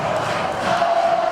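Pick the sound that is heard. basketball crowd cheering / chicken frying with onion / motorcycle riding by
basketball crowd cheering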